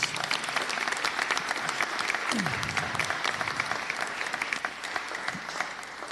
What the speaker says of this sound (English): Can I get an applause for everyone in here, please?